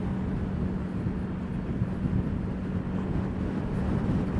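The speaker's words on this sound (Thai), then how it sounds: "ลมก็แรงอะ่ะ" Strong wind roaring steadily into the microphone while riding a Honda PCX scooter fitted with 17-inch wheels and an aftermarket exhaust, a dense continuous rush with no voices.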